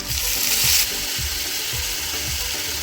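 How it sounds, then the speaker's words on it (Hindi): Tomatoes drop into a hot pan of sizzling green chillies, cumin and oil, giving a loud, steady frying hiss with a brighter burst at the start. "इसके साथ ही डाल देते हैं हरी मिर्चें। अब डाल देंगे टमाटर।"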